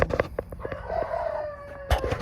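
Several roosters crow at once in a coop, overlapping long calls with short clucks and squawks nearby, loud and busy.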